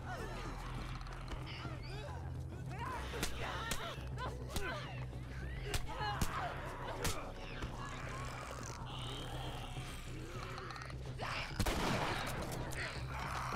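Gunfire in The Last of Us video game: several sharp, isolated shots crack out at irregular intervals over game background sound and a voice talking throughout.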